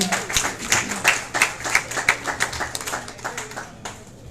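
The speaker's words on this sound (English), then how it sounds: "Let's give another big round of applause for the Minister." A crowd claps for a visiting minister in Lauderhill, Florida, with sharp, distinct hand claps in a loose, fairly fast rhythm that continue steadily throughout.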